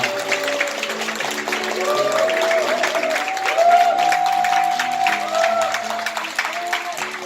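Wedding guests in a wedding hall clap steadily for the bride and groom as they bow to their parents. The applause runs continuously at a moderate level, with voices or music tones sounding above it.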